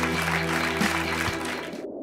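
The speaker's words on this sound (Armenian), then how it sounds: "Եկեք բարձր ծափարենք մեր չեմպիոններին։" Studio audience on the sports show Sport Club applauds the champions, a broad wash of clapping over steady background music that cuts off abruptly near the end.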